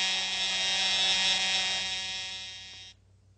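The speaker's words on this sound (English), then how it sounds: "there's the buzzer ending the first period" A harsh, steady electric buzzer sounds at an ice hockey game to end the first period, a loud continuous drone for nearly three seconds that fades slightly before cutting off abruptly.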